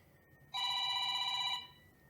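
A mobile phone rings during an evening talk event, giving a single bright electronic ring of about one second that stands alone over a faint room background.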